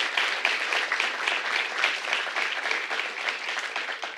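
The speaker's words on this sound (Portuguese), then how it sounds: "eu gostaria de reiterar as palmas aqui às finalistas, a Patrícia e a Carla." Steady applause from an audience at a public-service award ceremony, honoring the finalists; dense, continuous clapping at moderate level with no voices over it.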